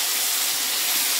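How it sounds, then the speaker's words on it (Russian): Beef strips for beef stroganoff fry in an uncovered pan, giving a dense, steady close-up sizzle with no breaks and no talking. "мое мясо жарится конкретно"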